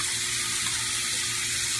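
Steady rushing water pours from a tap, a continuous broadband flow with no pauses, close and fairly loud throughout.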